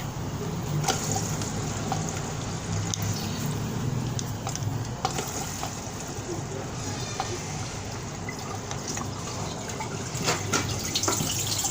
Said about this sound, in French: lorsque l'eau atteint le niveau du trop-plein. Donc ça s'échappe par le trop-plein et ça passe là.